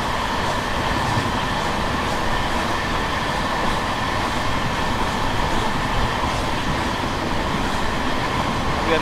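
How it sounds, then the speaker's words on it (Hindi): The Archana Express, train 12355, rolls into an Indian railway station with a loud, continuous rumble and rattle of rail cars that holds steady and close throughout, with no voices. "अभी आने वाली ट्रेन नंबर 12355 अर्चना एक्सप्रेस,"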